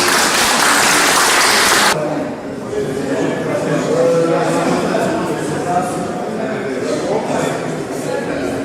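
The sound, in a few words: audience applause at art exhibition opening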